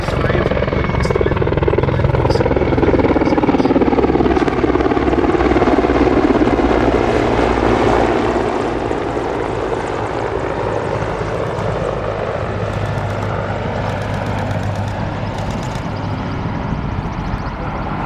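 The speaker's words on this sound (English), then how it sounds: "Mi-35, an export version of the Mi-24V" A Czech Air Force Mil Mi-35 attack helicopter, an export Mi-24V, flies a display at the Duxford Battle of Britain airshow. Its rotor thrum and turbine roar are loud and near, easing slightly as it moves away.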